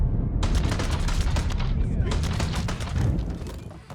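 Dense, loud bursts of gunfire crackle continuously in the Mafia 3 video game, rapid overlapping shots with heavy low rumble, sustained throughout with little pause.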